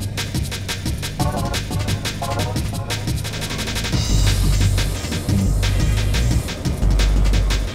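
Weapons firing in the Extreme G2 futuristic racing video game, including a mortar, with repeated sharp shots over a loud droning engine hum and rumble that swells louder midway.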